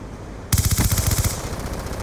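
Rapid burst of automatic gunfire in Black Ops 2, a loud, close volley of shots starting abruptly and rattling steadily for over a second before trailing into a noisy tail, with no talking.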